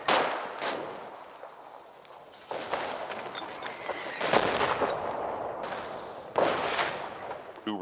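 In a war video game, howitzer artillery fires as several heavy booming blasts with long decaying rumbles, mixed with scattered gunfire and shuffling movement.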